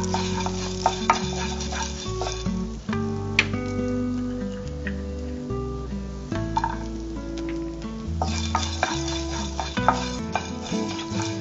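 Curry leaves and garlic roast in a pan, with a soft continuous sizzle and frequent scraping stirs over steady background music.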